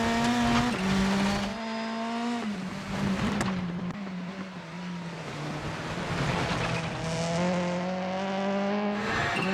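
Rally car driving on gravel in Assetto Corsa Rally: a loud, continuous engine drone rising and falling with gear changes, a dip around a shift, then climbing again over a rough gravel rumble.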